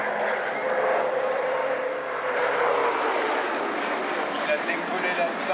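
Vintage P-38 Lightning twin-engine piston fighter at an airshow, its engines producing a steady sustained roar with a slowly shifting tone throughout.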